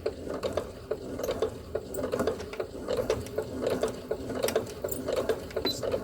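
A sewing machine runs at a slow stitch, its needle mechanism ticking out an even, rhythmic chatter close by, steady throughout.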